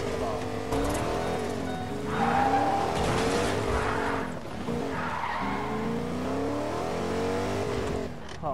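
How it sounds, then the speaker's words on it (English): Car driving in the video game Fortnite, a steady engine drone with skidding tire squeals and revving surges running throughout, loud and close. "I'm checking out the driving feature on Fortnite"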